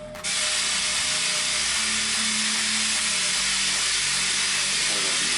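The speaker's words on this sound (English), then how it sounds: "by using my brake bleeder, I can suck all the air out of here, causing a vacuum." A hand-operated brake bleeder pulls a vacuum on engine lifters submerged in oil during a 2023 Harley-Davidson Road Glide Special engine upgrade, giving a steady close hiss with faint mechanical clicks and no speech.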